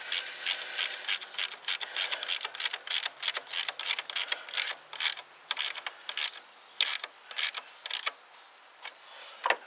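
A ratchet tightens an alternator bolt on a Ford Taurus in quick, close, crisp clicking bursts, about two dozen strokes in a steady but uneven rhythm, with no talking.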